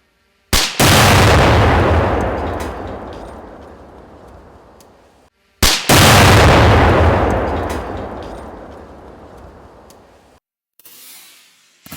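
Two massive explosive detonations of ANFO and C4 at an outdoor test range, each a sharp, very loud blast followed by a long rumbling decay of several seconds, then a fainter trailing noise at the end.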